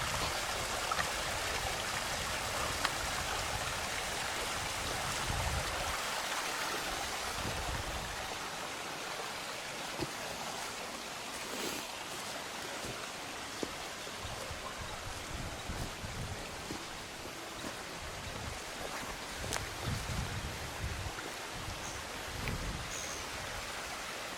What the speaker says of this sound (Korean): 여기서 봤어도 계곡물은 참 아름답습니다